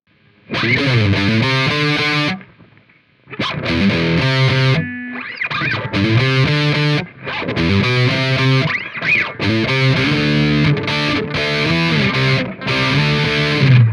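Heavily distorted electric guitar through an SLD 100 amp simulator in Amplitube 5 on factory settings plays loud chugging riffs and chords in bursts, with short gaps of silence between phrases.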